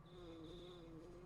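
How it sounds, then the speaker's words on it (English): A bee buzzes in the video game Earthbound, a steady faint hum holding one high tone that fades out near the end, with low background music underneath. "Do you hear buzzing that sounds like a bee flying around?"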